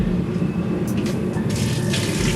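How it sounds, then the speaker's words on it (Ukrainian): Warm water runs from shower heads with stop valves in a mobile bathhouse trailer, a pump working beneath it; steady rushing hiss and low droning hum, with brighter splashing bursts joining in partway through. "працює насос, як ви чуєте, обладнано стоп-лійками, перерозходу води тут взагалі не буде, водичка тепленька, біжить"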